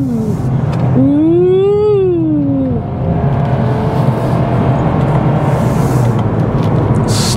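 A 2022 VW Golf R engine revs sharply to 4,500 RPM on a paddle shift, its pitch climbing and then falling away, followed by a steady loud drone of engine and road noise.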